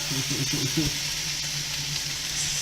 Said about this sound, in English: That's a better sizzle than on steel.